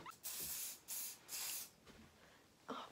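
Hairspray is sprayed onto hair in several short hissing bursts, close by with brief pauses between them, and a final quick spritz at the end; no talking.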